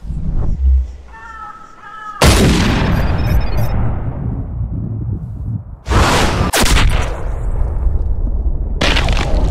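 Rifle shots ring out at a deer in the hunting game Cabela's Big Game Hunter Pro Hunts: three loud, sharp blasts, each with a long rumbling decay, follow a brief tonal cry at the start.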